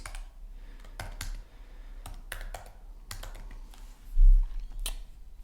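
Keystrokes on a computer keyboard as a task is typed into a calendar, an irregular run of close, crisp clicks with brief pauses and one louder tap near the end.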